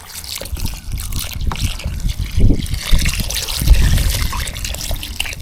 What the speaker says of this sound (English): then just kind of water it down, make it moist